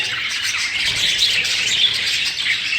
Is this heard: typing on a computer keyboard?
no